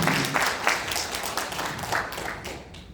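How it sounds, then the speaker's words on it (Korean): Listeners applaud at the close of a lecture on the Korean War and the Korea–US alliance, with a steady round of many overlapping claps holding fairly even in level from start to finish. "네, 많은 박수를 부탁드리겠습니다."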